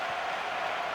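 Stadium crowd noise from the football video game PES 2013, a steady broad roar of cheering and applause held at an even level throughout, with no talk over it.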